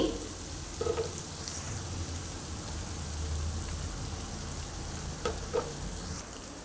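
Chili powder sizzling in oil in a pan for palak chicken curry: a steady close frying hiss with a few light scrapes and clinks of stirring, no voices.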